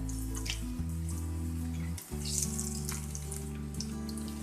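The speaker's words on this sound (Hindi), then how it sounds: "कबाब हमारे दोनों साइड से अच्छे तरीके से फ्राई हो चुके हैं।" Potato seekh kebabs fry in a pan with a steady, close sizzle and crackle, the frying noise running continuously with a brief dip partway through, over a low background hum and no talk.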